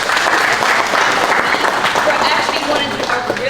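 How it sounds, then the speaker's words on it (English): A school event audience applauds steadily, a dense, loud wash of clapping that fills the whole moment without a break. "So let's give them another round of applause."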